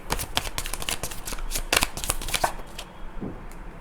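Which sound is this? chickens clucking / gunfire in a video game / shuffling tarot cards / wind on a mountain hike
shuffling tarot cards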